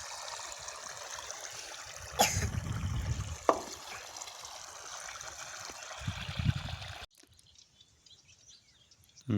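Irrigation water from a canal pours steadily into a tobacco field. Birds chirp sharply now and then over the flow, before the sound drops suddenly to near quiet.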